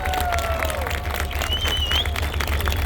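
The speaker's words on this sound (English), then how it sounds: "One more applause just for all the volunteers who put this incredible day together." A crowd at the Canadian Tank Museum claps for the volunteers, a dense steady patter of applause with scattered whistles and cheers over a low outdoor hum.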